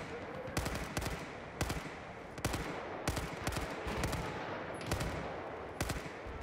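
Sustained gunfire in a Battlefield 4 multiplayer Conquest match on Xbox One, with repeated sharp shots in irregular bursts over a dense, noisy battlefield background, close and loud throughout.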